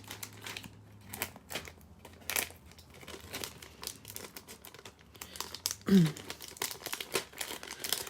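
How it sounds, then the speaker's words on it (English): Lining backing is gently peeled off an infusible ink transfer sheet, giving soft, intermittent crinkling and crackling bursts, quiet and close, with pauses between pulls. "I'm just sort of very gently peeling away the lining piece"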